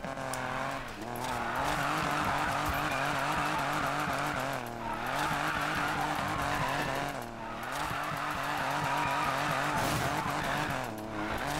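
A Buick GNX drifting in Need for Speed Payback, its engine roaring steadily while the tires squeal and skid in long, wavering bursts, with brief dips as the car shifts and swings sideways again.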